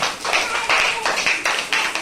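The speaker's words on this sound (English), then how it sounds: "You can clap your hands." Students in a classroom clap their hands together, a steady run of sharp, fairly loud claps in a dense burst lasting a couple of seconds, with no talking over it.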